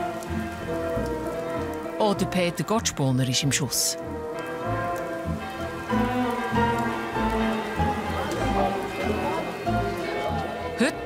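Steady rain patters on a surface throughout in the Swiss village of Visperterminen, with a few louder clattering knocks, while someone speaks German over it.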